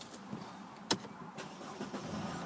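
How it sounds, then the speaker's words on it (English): A silver Mercedes-Benz C220 CDI Sport diesel with 65,539 miles starts on the first try: one brief, sharp crank-and-catch burst, then a faint, steady engine murmur close by. "No problems at all starting the vehicle, just start first time."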